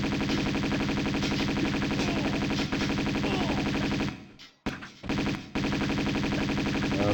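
Uzis in Tomb Raider II fire in dense, rapid bursts, a loud unbroken rattle that drops out for about a second before resuming.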